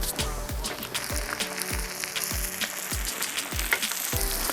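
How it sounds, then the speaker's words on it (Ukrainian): Eggs with sesame and cheese frying in a pan over the lowest heat, a constant close sizzle with steady rhythmic thumps repeating about twice a second underneath. "після того, як сир по краям сковорідочки почав гарно просмажуватись"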